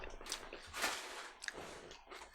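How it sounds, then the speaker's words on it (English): Crunchy seasoned nuts with a coating are chewed close to the microphone, a few quiet crisp bites and crunches spread unevenly over a couple of seconds. "let's do the Manimotos because that's crunchy"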